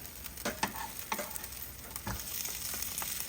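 Queso birria tacos crisping in a pan give a constant close sizzle, broken by a few sharp taps and scrapes as they are turned.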